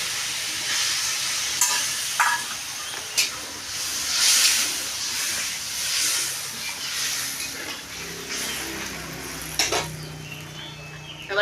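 Water poured into a hot pan for a homestyle Bengali fish curry with potol, giving a steady broadband hiss and sizzle with a few sharper spurts, close and moderately loud, no talking.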